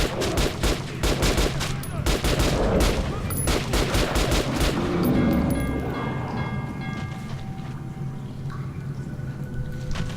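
Rapid, dense gunfire from the video game Metro Last Light, fired in quick bursts with near-continuous loud reports for several seconds before thinning out into scattered shots over a droning game background.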